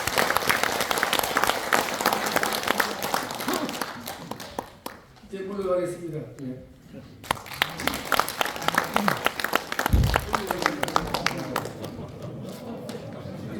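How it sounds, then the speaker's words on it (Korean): Audience applause at a national revival society's general meeting and lecture, dense clapping under and between a speaker's talk, fading briefly mid-clip before resuming. "박수로 보내주십니다."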